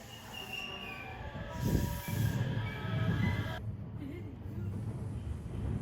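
A JR Hanwa Line train in Osaka rolls along the rails with a steady rumble and a squeal of metal wheels, fairly close, with no one speaking.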